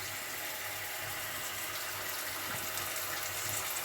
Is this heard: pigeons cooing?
no